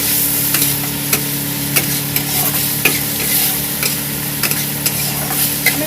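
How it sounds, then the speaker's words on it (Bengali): Sliced onions frying in hot oil, crackling with a steady sizzle while a spoon or spatula stirs them, scraping the pan at irregular moments; close and fairly loud, with no talking. "দিয়ে আমি ভালো করে নেড়ে নেবো পেঁয়াজটাকে।"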